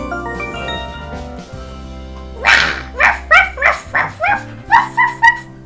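A working dog barks in a quick, loud run of about eight sharp barks spaced evenly over several seconds, with music playing underneath.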